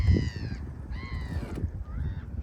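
Noisy birds, likely geese or gulls, call repeatedly over Thorny Channel while a boat drifts, giving several honking, squawking cries in rough bursts over a low background rumble.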